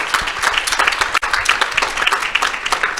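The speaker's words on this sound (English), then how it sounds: "Everyone, give Ryan a big round of applause." A conference audience bursts into dense, sustained applause, many hands clapping loudly and evenly across the whole moment without a break.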